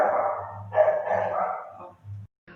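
A small dog barks close by, giving a couple of loud, drawn-out yapping barks in quick succession before trailing off into brief quieter sounds.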